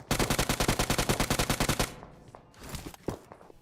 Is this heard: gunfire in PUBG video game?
yes